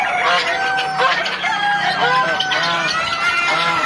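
Chickens and turkeys kept together on a farm, with several overlapping clucks and crowing calls running steadily throughout, close and fairly loud.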